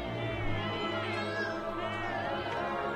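Cats in the animated series The Owl House meow together in a cute, high-pitched chorus, several overlapping mews over a steady humming music bed.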